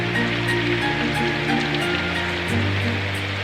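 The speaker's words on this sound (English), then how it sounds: "The leaves on the trees caught much of the rain" Steady rain sound effect from the visual novel game Symphonic Rain, a continuous even hiss of rainfall with no voices, alongside a soft low musical tone that shifts pitch.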